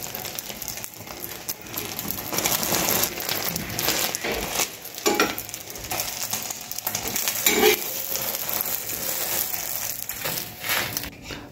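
A mixture of egg, onion and chilli cooking in a wok, a continuous close sizzle broken by occasional clanks and scrapes of a utensil against the pan, with no speech.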